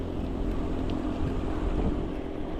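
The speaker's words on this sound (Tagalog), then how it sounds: "kaya pala kanina may mga umuugong ng makina" A boat engine drones steadily and loudly throughout, a continuous low rumble mixed with wind buffeting the microphone, with no talking.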